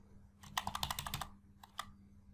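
Rapid burst of computer keyboard keystrokes while entering numbers into an Excel spreadsheet, close and crisp, followed by a brief pause and two more isolated key taps.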